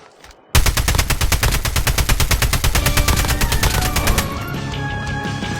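Rapid automatic gunfire rattles loud and close in a video game, a long sustained burst of evenly spaced shots that tapers into quieter scattered sounds near the end.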